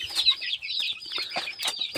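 Backyard hens and their chicks clucking and peeping during winter feeding: quick, high, chirpy calls in short overlapping bursts, close by and fairly soft, with no voices.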